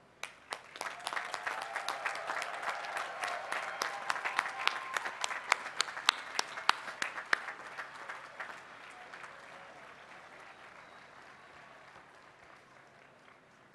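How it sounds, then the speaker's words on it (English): Graduates and guests at a Cal Poly Pomona College of Engineering commencement applauding, a swell of crowd clapping with sharp individual claps standing out, building and then fading after about eight seconds into a faint, diffuse hall ambience. "well-deserved round of applause"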